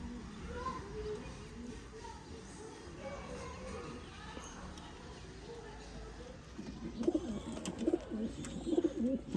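Pigeons coo in low murmuring phrases that are faint at first, then louder and busier near the end, with soft background noise and a voice at times.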